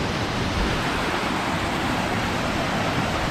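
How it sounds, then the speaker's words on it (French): Rushing mountain torrent on a Pyrenean trail, a loud, unbroken roar of churning water filling the whole short stretch without voices. "un bon petit torrent pour se rafraîchir"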